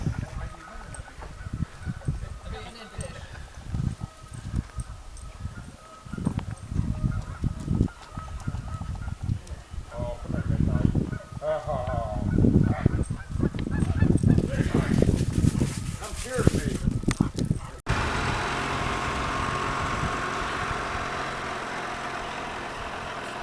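Geese honk repeatedly in bursts on a hike near water, amid outdoor noise and people talking, with an engine rumbling at times and a steady hiss near the end.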